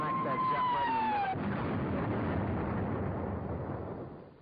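A bomb explodes on a ship in a wartime film sound effect, a loud, sustained rumbling roar that follows a falling whistle and fades out at the end.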